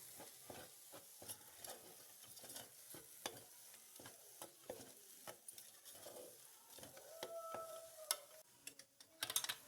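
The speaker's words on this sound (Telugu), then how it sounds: "ఇవన్నీ వేసుకొని ఒకసారి బాగా కలుపుకుందాం అండి." Half a kilo of mutton with turmeric and coriander powder is stirred in a pan. Soft, repeated scraping and tapping strokes sound over a faint sizzle, quiet and close, with no speech.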